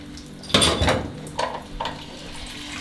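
A metal spoon scrapes and clinks against a pot of onion stew with chicken and prune, close by, over a low steady hum.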